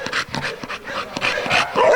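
A dog sounds off close by with repeated short barks, yips and panting whimpers in an irregular burst, loud and alone without talking.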